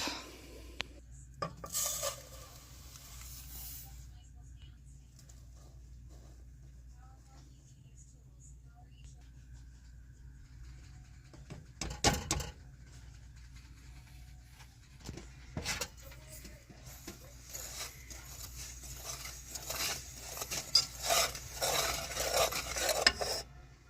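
Cocoa, sugar, milk and cornstarch being stirred in a pan: faint scraping and clinking of a utensil against metal with light rustles, soft occasional knocks and a low background hum, with someone talking at points.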